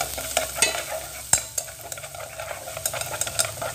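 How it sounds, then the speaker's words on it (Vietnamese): Chicken sizzles and crackles in a hot pan with golden fried garlic and lemongrass while a utensil scrapes and clacks against it in irregular strokes. "sau khi tỏi xả nó vàng rồi mình bỏ gà vô mình ướp"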